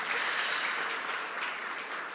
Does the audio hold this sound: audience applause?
yes